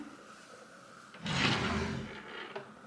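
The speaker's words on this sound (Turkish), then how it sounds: "Şifonyerin 3 tane büyük çekmecesi var. 2 tane de şöyle küçük çekmeceleri var." A large dresser drawer in a baby's room slides open with a single close, wooden scraping rush lasting about a second, followed by a faint knock, with no talk.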